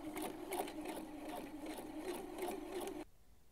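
Domestic sewing machine running steadily while shirring fabric with elastic thread, a close, continuous whirring hum with a fast stitching pulse for about three seconds before it stops abruptly.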